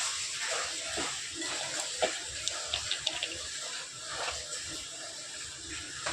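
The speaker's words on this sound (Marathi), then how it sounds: "बोलमध्ये पाणी टाकायचं, त्यात पास्ता धुवून घ्यायचा एकदा" Water poured into a bowl to rinse pasta in a home kitchen: a steady, moderately loud wash of running water, with a few faint clinks partway through.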